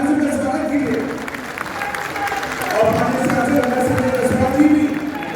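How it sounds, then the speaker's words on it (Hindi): An audience applauds steadily in the Gandhi auditorium in Patna to welcome the chief minister at the Bhamashah award ceremony. The dense, sustained clapping swells near the end, with crowd noise mixed in. "तालियां बजती रहनी चाहिए।"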